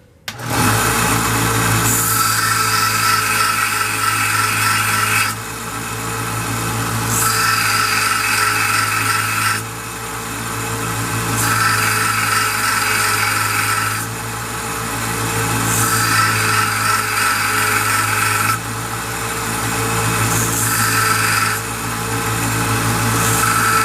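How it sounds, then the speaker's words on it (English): Grinder shaping a bevel on a handmade leather stamp, a loud, continuous close-up whine and rasp of metal against the wheel, swelling and easing slightly every few seconds as the piece is pressed and lifted, without talk. "For safety's sake, just point it down when you grind your bevel."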